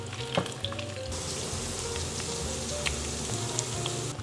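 Chicken skin frying uncovered in a pan, a steady close crackling sizzle with scattered pops and spits running throughout.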